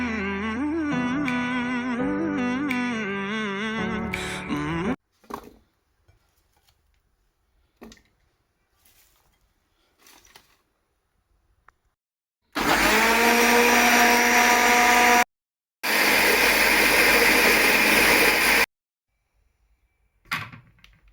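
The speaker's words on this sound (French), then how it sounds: "je vais mettre tout ça dans un mixeur et broyer" A kitchen blender grinds a marinade with bay leaf in two loud, steady bursts of about three seconds each, separated by a brief pause, after an earlier stretch of other motor whine and some quiet handling noises.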